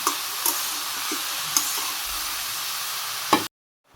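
Bottle gourd simmering in a pan just before sugar goes in, with a steady low sizzle broken by a few light knocks and stirring taps, then cutting off to silence near the end.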